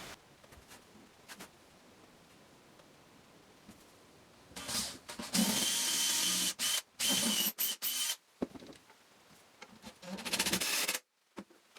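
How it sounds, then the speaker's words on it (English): A power drill drives a screw into the wooden leg of a valet stand, two loud whirring bursts broken by brief pauses and trigger stops after quiet workshop rustling. "So I'm going to temporarily screw it into place"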